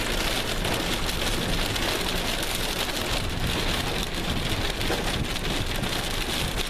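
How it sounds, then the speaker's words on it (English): Heavy rain drums steadily on a Jeep's roof and body, a dense constant hiss and patter with no pauses. "And now it's raining pretty hard."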